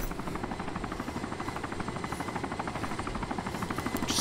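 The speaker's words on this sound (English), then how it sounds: "Why are they circling around with a helicopter?" A helicopter in the video game Arma 2 DayZ Overpoch circles, its rotor thumping in a fast, steady rhythm, loud and close, with a whining engine underneath and no voices.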